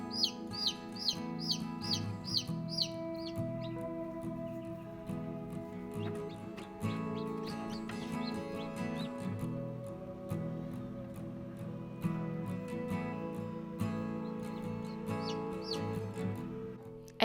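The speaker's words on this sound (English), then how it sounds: "This hen's name is Fluffybutt." A hen clucks repeatedly with brief chirps early on, over a steady droning musical background.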